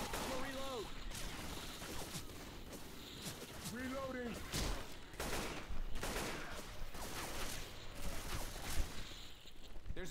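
Gunfire in the Left 4 Dead video game comes in repeated sharp bursts and single shots at close range, mixed with game sounds and shouted character voices.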